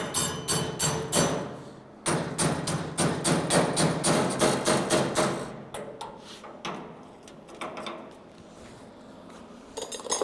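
A hammer taps a sheet metal patch panel over a metal rod during repair on a 1929 Ford Model A, with rapid bright metallic strikes in dense bursts, close and loud, with short pauses between runs.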